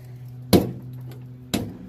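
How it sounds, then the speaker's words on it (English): Two sharp slams of a door that does not close fully, about a second apart, each with a brief metallic ring from metal contact over a steady low hum. "when I close the door"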